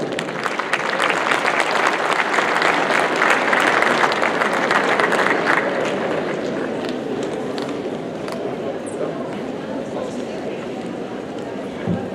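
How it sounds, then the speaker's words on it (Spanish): Loud, sustained audience applause at an electoral law conference greeting a speaker coming forward, dense clapping that stays strong before slowly tapering off. "le brindamos muy fuertes aplausos"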